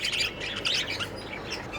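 Pet budgerigars chirp in a cage, a busy run of bright, close tweets and squawky chatter that goes on without a break.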